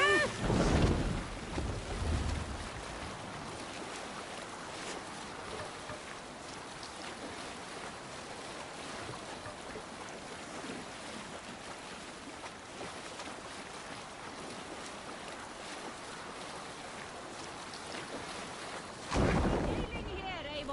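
Sailing ship at sea in Assassin's Creed Valhalla, a soft steady wash of water and wind around the hull, quiet and continuous, with brief louder bursts at the start and end and a voice calling out.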